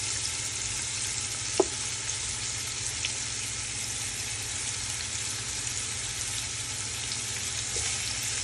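Pork hock and onion fry in a pan with a constant dense sizzle, a single sharp clank of a utensil early on and faint stirring scrapes, with no voices.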